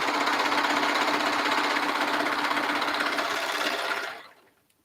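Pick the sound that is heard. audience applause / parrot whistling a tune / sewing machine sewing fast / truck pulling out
sewing machine sewing fast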